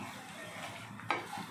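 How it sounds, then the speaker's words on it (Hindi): Ginger garlic paste fries with onions in a pan, making a soft sizzle with a short clink of a spoon stirring near the end, fairly quiet and without talk. "अब इसके बाद हम 2 टेबलस्पून इसमें अदरक लहसुन का पेस्ट डालेंगे। उसको भी अच्छे से हम 2 से 3 मिनट भून लेंगे।"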